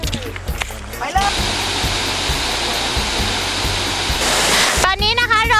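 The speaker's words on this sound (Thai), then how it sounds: "ตอนนี้นะคะเราก็กำลังอยู่ที่น้ำตกโตนตกกันนะคะ" Ton Tok waterfall roars as a loud, steady broadband rush from close by for most of the clip, with a voice briefly audible at the start and end.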